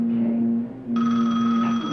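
A telephone that should be switched off rings inside a house: a steady electronic tone that jumps to a brighter, higher ring partway through, loud and close, with no talk.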